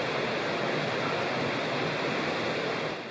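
Creek rapids on Greg Prong just upstream of a wilderness campsite near Lost Cove Creek, a dense, unbroken roar of rushing whitewater close by, steady and loud throughout with only a slight easing at the very end.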